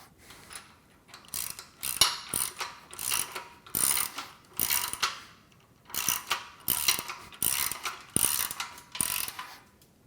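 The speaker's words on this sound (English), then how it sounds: "you got to use a crescent wrench because I don't have a wrench to fit the bigger heads on these" Wrench and ratchet socket tightening bolts during assembly of a Body Solid EXM3000 gym machine, heard as repeated bursts of rapid ratchet clicking in rhythmic strokes, close and fairly loud, with short pauses between bursts.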